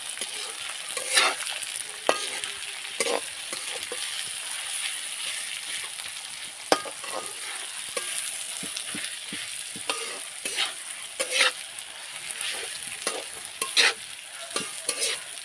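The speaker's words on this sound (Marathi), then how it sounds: "कांदा आणि मिरची टाकून घेतले त्याच्यामध्ये, त्याला मस्त असे परतून घेते" Loud, steady sizzling of onions and chillies frying in a small wok, with repeated scraping and stirring strokes throughout.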